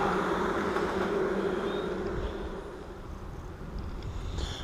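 Honey bees buzz densely at a hive while colonies are moved into nuc boxes using a fume board, a steady close swarm drone that stays continuous and softens slightly partway through, with no voices.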